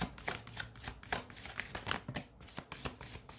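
Tarot cards shuffled by hand in a steady rapid riffle of crisp papery flicks, close and fairly quiet, with no talking.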